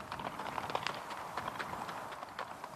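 A ridden horse's hooves clip-clop in a quick, steady rhythm on hard ground, fairly faint and alone.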